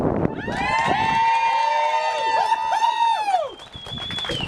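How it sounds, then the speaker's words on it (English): A crowd at a tattoo inkathon charity event for the Humane Society cheers and screams loudly, high sustained shrieks and whoops layered together, swelling and breaking off near the end. "put your hands together and scream for your Royal Highness, the Queen!"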